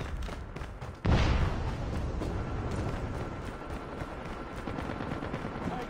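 Sentry gun gunfire in Call of Duty Mobile on the High Rise map, a loud burst erupting about a second in and then sustained, continuous rattling fire with battle noise.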